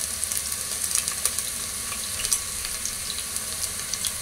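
Onion paste hits a hot pan of chopped onions for Bengali beef kosha, giving a loud, steady frying sizzle with crackling pops throughout and no voices over it.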